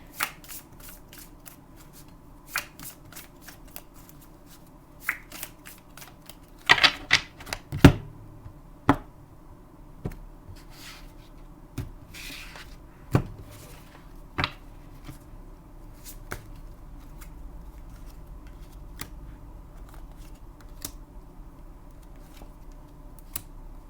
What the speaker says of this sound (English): I'm just laying the cards out and then we will talk about them real quick.